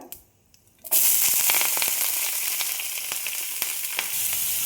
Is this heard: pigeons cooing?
no